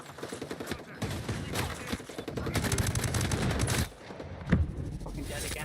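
Heavy automatic gunfire from a hard-recoiling gun in a shooter game, rapid bursts of shots that rattle on and build to a sustained stream, then cut off before a final loud shot, with a voice speaking over parts of it.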